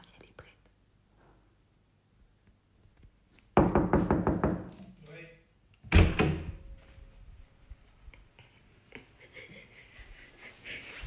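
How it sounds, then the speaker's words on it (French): A door is knocked on with a quick burst of several rapid raps, then a louder thump as it is handled, with whispering and soft speech before and after. "Je vais cogner à la porte."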